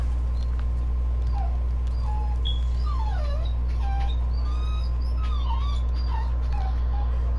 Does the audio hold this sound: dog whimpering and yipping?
yes